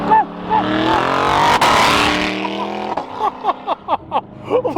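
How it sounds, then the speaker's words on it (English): A car with a newly fitted, very loud exhaust revs hard and accelerates close by, a long sustained roar followed by a string of sharp, choppy blips of the throttle, with no talking over it. "Also, new exhaust. I forgot how loud this thing is."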